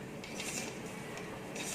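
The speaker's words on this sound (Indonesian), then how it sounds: "kita aduk seperti ini sampai kalis" Martabak dough being stirred in a bowl, a soft continuous rubbing and scraping with faint rasping strokes, steady and close, no talking.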